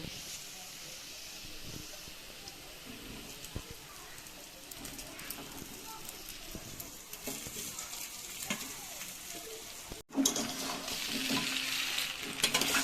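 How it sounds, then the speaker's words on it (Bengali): Crumbled boiled potatoes are tipped onto onions fried until red and stirred in a pan, soft scraping and light sizzling under a talking voice, with a sharp clatter near the end. "সেদ্ধ আলুগুলোকে আমি হাতে করে ভেঙে নিয়েছি, এইগুলোকে সব দিয়ে দেব"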